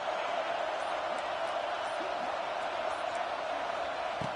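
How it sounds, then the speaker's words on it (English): Steady roar of a stadium crowd in a college football video game, a dense continuous wash of cheering that holds at an even level throughout, with faint murmur of voices inside it. "this crowd is fired up. Listen to this noise here."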